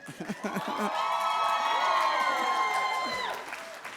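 An audience at a higher education hooding ceremony claps and cheers with a few whoops, swelling briefly and then fading out after a few seconds.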